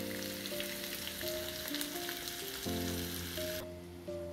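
Tofu stir-fry with ketchup and nutmeg simmers in a pot, giving a steady close sizzle and bubbling with a faint tonal hum running underneath, and no voices.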